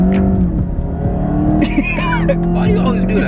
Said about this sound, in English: This is a 2-liter 4-cylinder, and it sounds like straight basura.